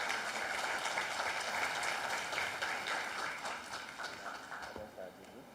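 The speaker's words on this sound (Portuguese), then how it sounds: "vamos recebê-lo com uma salva de palmas" An audience at a church service applauds to welcome a pastor with dense, sustained clapping that fades toward the end, with some voices mixed in.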